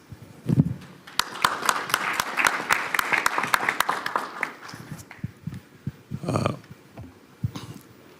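A conference audience at a closing ceremony claps for the organizers. Sparse, sharp individual claps build into a brief burst of applause and then taper off, with breathy noises and murmurs mixed in.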